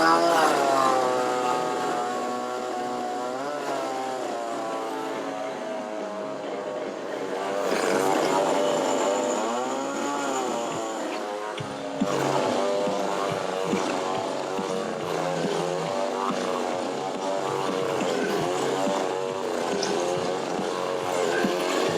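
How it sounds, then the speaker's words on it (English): A running chainsaw in a street busker's chainsaw-juggling act at a festival: a loud, continuous engine drone whose pitch keeps rising and falling as the throttle changes, lasting the whole stretch. "Chainsaw juggling is extremely dangerous."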